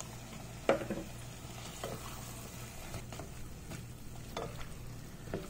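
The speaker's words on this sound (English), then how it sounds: "I'm going to add in the cherry tomato." Cherry tomatoes and Kashmiri chili hit a pan of mutton curry, giving a soft steady sizzle with a few spoon scrapes and stirring knocks, quiet and close.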